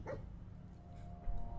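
A companion dog in the video game Fallout 4 gives a single short bark near the start, then fainter yips and whimpers over low background hum.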